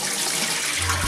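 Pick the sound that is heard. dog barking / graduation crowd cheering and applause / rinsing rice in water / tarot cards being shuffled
rinsing rice in water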